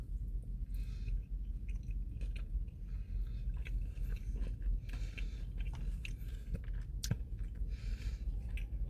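Close-up chewing and biting of Arby's chicken bacon ranch mac and cheese, a steady run of soft, moist mastication with a few crisper crunches, heard alone without talk.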